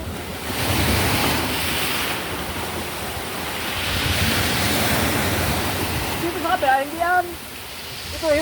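Broad rushing surf of large sea waves from Typhoon Uwan swelling and receding, loud and near, with a voice speaking briefly near the end.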